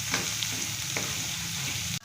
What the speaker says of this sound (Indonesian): Kita tumis dulu menggunakan minyak.